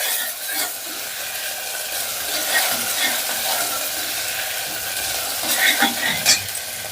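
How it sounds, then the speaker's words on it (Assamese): Onion, ginger and garlic sizzle in hot oil with panch phoron for a jackfruit curry, steady loud frying broken by scraping stirs of a spoon against the pan. "পাঁচফোৰণখিনি ফুটাৰ লগে লগে এয়া মই পিঁয়াজ, আদা, নহৰু এইখিনিও মই ইয়াতে দি দিছোঁ। আৰু এতিয়া ভাল ধৰণেৰে লৰাই দিম।"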